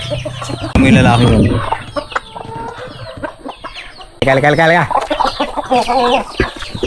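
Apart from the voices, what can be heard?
chickens clucking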